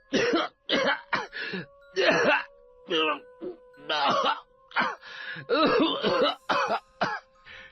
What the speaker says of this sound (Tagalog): Walang tigil ang pag-ubo ng binata.